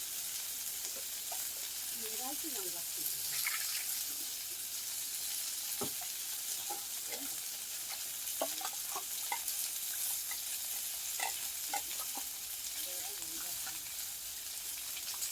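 Okra and ash gourd fry steadily in a pan, a constant close sizzle with scattered clinks and scrapes of a spatula stirring, no voices over it.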